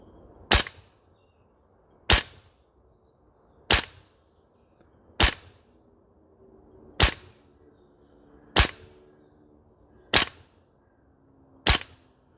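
Eight sharp, crisp cracks from a DE Ghetto Blaster MWS airsoft rifle fed from a PMAG, fired singly at a steady pace of roughly one every one and a half seconds at a range target, with quiet between shots.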